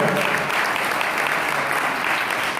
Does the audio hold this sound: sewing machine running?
no